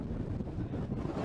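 Strong wind buffets the microphone on a clifftop on Dorset's south coast in winter, a steady loud roar with low rumbling gusts and no break across the short stretch.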